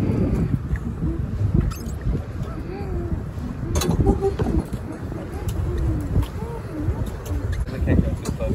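A tour boat ride on the water in Washington DC heading toward the Jefferson Memorial, with steady engine and water rumble plus wind beneath a speaking voice and occasional excited exclamations.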